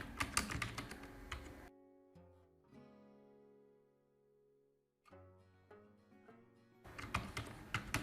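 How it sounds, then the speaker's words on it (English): Header being typed into an Excel spreadsheet on a computer keyboard: dense bursts of rapid key clicks open and close the stretch, with quieter tonal sounds between them and no talking. "Let's quickly type the header."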